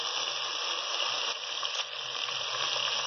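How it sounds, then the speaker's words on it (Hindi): Ginger-garlic paste sizzles in hot oil in a pan, a continuous bright crackling hiss at moderate level, steady and alone with no voices. "1 टेबल स्पून लहसुन अदरक का पेस्ट जाएगा"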